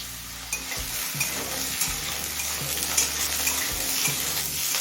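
Potatoes, carrots and green chillies frying in a pan over a medium flame, a dense continuous sizzle with occasional soft knocks of a stirring spoon, close and steady, with no talking.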